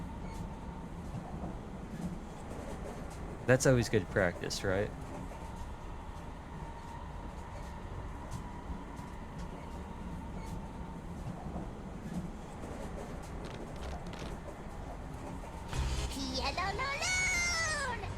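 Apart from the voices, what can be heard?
released train cars rolling, from video game World's End Club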